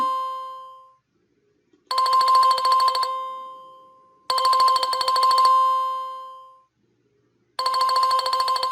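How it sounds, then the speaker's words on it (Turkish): A loud repeating electronic chime from a Tawk.to chat notification plays three times with pauses between, each a bright ringing tone held about a second, close and clear. "Yani bildirim sesi geldi. Ve bu bildirim sesi yüksek bir ses."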